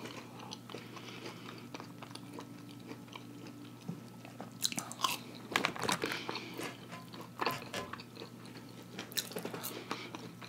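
Close, crunchy bites and wet chewing on fried catfish steak and french fries, with irregular crisp crunches clustering in the middle and continuing over faint background hum.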